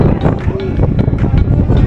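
Strong wind buffeting the microphone in steady gusts on the open rooftop of Shibuya Sky in Japan, with people talking and exclaiming over the rushing noise.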